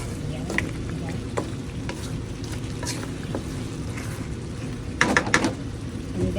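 Small-cut carrots are stir-fried in a pan with a loud, constant sizzle and hiss, while a utensil scrapes and clatters against the pan in irregular stirring strokes, busiest near the end.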